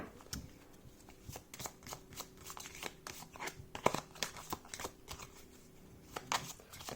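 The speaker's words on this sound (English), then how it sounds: "what I'm doing here is also mixing cards like this" Playing cards are shuffled and mixed by hand, close and fairly quiet, producing a dense run of crisp riffling snaps and papery slides throughout.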